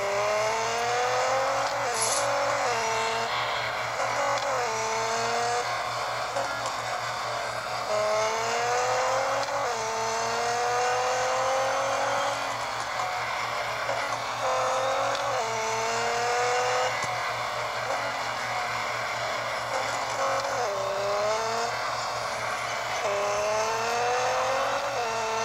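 Nissan GT-R LM Nismo 2015 race car in a racing video game, its engine droning loud and steady with repeated rising shifts and revs through gears across the whole stretch, no talk over it.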